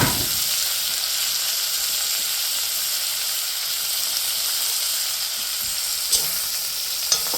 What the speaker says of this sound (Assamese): এতিয়া মই ইয়াতে বিলাহীখিনি দি অকণমান ফ্ৰাই কৰোঁ